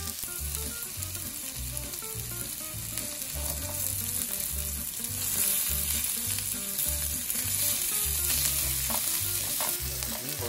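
Butter melting and sizzling in a pan with sliced raw mushrooms, a steady bright crackle under a rhythmic pulsing beat of background music.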